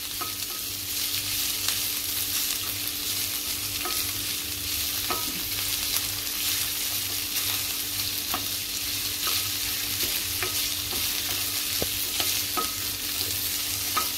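Chopped onion sautéing in a pan for matar paneer, a steady close sizzle of frying with scattered scraping clicks from stirring, continuous and unbroken with no talk.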